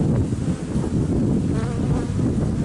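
Honey bees at an open hive during an early March inspection make a dense, continuous buzzing close by, loud and unbroken, with no talk over it.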